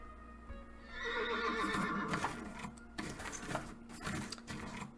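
A horse in the video game Cowboy Life Simulator gives a loud whinny, with the clatter of hooves and rhythmic mechanical clicking continuing underneath for several seconds.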